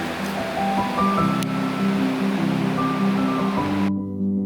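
Sissu waterfall and the river below in the mountains, a steady broadband rush of falling and flowing water, loud and constant throughout, with other tonal sounds mixed in.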